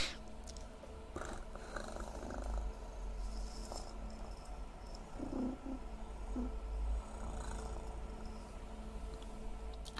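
A person imitates a cat's purr close to a sensitive ASMR microphone, producing a steady, low rumbling drone that continues throughout with slight swells, intimate and near, with no talking.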